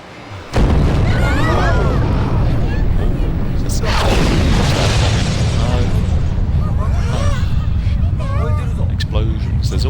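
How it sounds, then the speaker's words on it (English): Loud booming explosions from the Yakuza video game, with a heavy blast near the start and another rumbling burst midway, over continuous dense action noise and voices talking. "There's always explosions in the Yakuza series."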